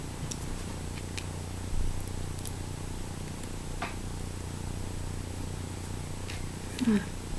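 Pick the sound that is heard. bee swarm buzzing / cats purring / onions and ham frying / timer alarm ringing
cats purring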